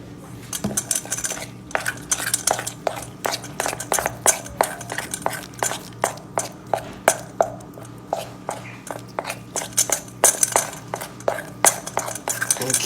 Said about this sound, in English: And now we're just gonna mix it up.